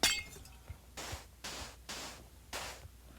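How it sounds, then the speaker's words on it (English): Glass blocks being placed in the video game Hive, four crisp clinking placements in a steady rhythm, fairly loud and close, with no talking. "Now I'll put a layer of glass over it."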